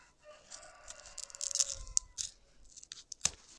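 Scissors cut electrical tape during a repair in the cargo area of a BMW X5 E53, giving a few quiet, crisp snips and tearing crinkles close by, with no talking.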